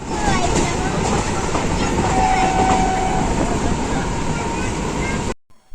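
A train rumbling and clattering loudly nearby, a constant heavy roar that cuts off abruptly near the end.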